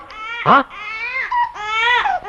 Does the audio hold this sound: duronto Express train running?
no